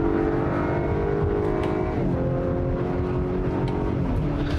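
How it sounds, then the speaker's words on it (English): Acura four-cylinder engine with synthesized engine noise pulls steadily under load, its harmonic tones shifting as paddle-shifted gears change, loud and continuous from inside the cabin with no talking. "I don't love the way this four-cylinder sounds."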